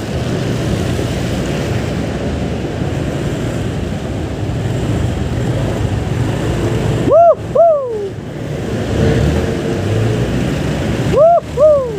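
Steady broadband wash of rain with a low rumble underneath, interrupted twice by short rising-and-falling whistled tones.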